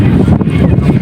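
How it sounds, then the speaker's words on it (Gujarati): Strong wind roars steadily across the microphone on the Trishuliyo mountain pass near Ambaji, a loud, continuous buffeting rumble with no voices. "વાયરો તો મસ્ત આવે છે ને"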